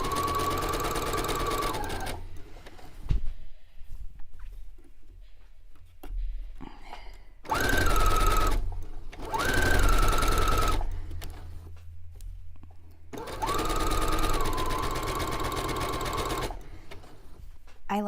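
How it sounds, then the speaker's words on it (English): A sewing machine runs a straight basting stitch around a pants waistband in three long bursts, stopping and starting between them, with quiet pauses and some handling noise. "I'm just basting a line around my waistband so I have somewhere to follow all the way around."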